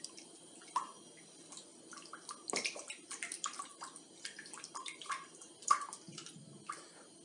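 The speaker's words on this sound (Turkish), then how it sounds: "Şöyle ufak bir karıştırma işleminden geçirelim." Milk, yogurt and an egg being stirred together in a bowl for saya bun dough, giving soft wet sloshing and clinking strokes in an irregular rhythm, close and fairly quiet.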